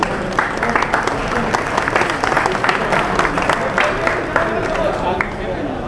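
Loud, steady applause from a gathered crowd at a retirement celebration, dense hand claps going on throughout with a murmur of voices beneath.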